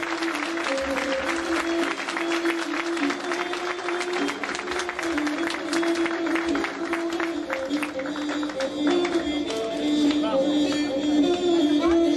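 Sustained applause from a school graduation ceremony audience as the 8A class students come forward, a dense, even roar of clapping holding for the whole stretch with a crowd murmur and a faint tonal hum beneath.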